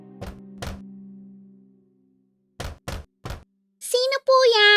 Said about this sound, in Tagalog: Pagkatapos ay lumapit siya sa bahay at kumatok sa pinto.